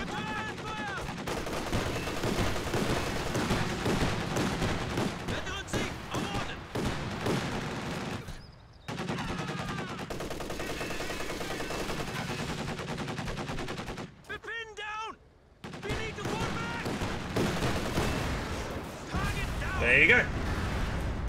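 MG34 machine gun in Company of Heroes 2 firing armor-piercing incendiary rounds at an AA half-track, long loud rattling bursts with brief pauses, someone talking over the battle.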